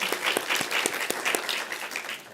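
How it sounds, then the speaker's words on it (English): Scattered applause from a modest audience at a research chair launch event, individual hand claps distinct and uneven rather than a thick wash, fairly quiet and brief. "that deserves a round of applause"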